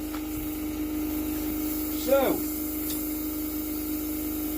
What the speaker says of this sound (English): let me turn that compressor off.